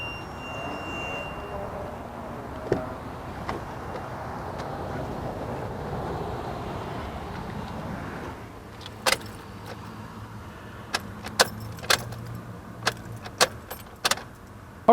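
Cranking attempt on a Toyota Tacoma hooked to a jump starter pack, with a steady low rumble and then a run of sharp clicks and clanks near the end, close by and without talk.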